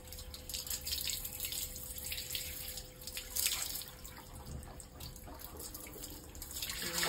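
Water runs from a tap and splashes steadily while goat intestines are washed clean outdoors, a continuous trickling rush with drips and no talking.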